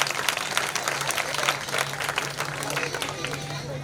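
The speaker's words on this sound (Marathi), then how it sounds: "एकदा जोरदार टाळी झाली पाहिजे त्यांची" A crowd claps in steady, dense applause at a school function, a continuous patter of many hands held at an even level with a low hum underneath.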